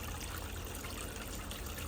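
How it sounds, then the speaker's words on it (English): Water from a 90-gallon aquarium filter pours into a 30-gallon tub of comet goldfish, producing a soft, continuous trickle and splash, quiet and steady throughout. "I got a 90-gallon filter running on this 30-gallon tub"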